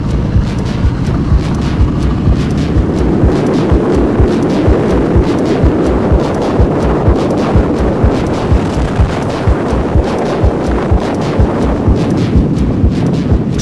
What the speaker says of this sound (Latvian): Šis ir motocikls, no kur mēs filmējam.